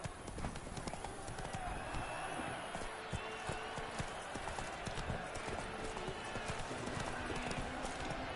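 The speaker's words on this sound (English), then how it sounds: "Run, Roach." A horse gallops in The Witcher 3, its rapid rhythmic hoofbeats steady and close throughout, mixed with game ambience and a voice speaking.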